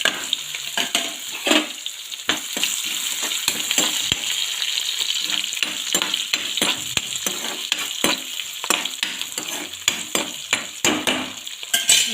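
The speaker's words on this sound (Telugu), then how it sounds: "శనగపప్పు అండి, వేసేసుకొని కొంచెం వేగనిద్దాము" Chana dal frying in oil in a pan, a steady sizzle broken by frequent sharp metallic clinks and scrapes of a spoon stirring, close and busy throughout, with no speech.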